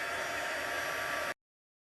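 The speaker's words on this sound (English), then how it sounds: "now we're going to go ahead and grab our heat tool." A heat tool blows hot air while heat-setting a stamped card, a steady hairdryer-like whoosh that runs for just over a second and then cuts off abruptly.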